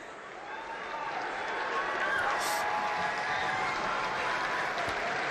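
Football fans at a Section 8AA high school final applaud their Viking squad heading to the sideline during a timeout, a steady, broad wash of crowd clapping and noise that swells slightly and holds, heard from a distance.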